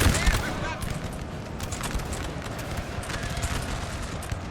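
Cannon canister shot and musket volleys crackle in a dense, continuous battle din in Napoleon Total War, a steady wash of overlapping distant fire with no single shot standing apart.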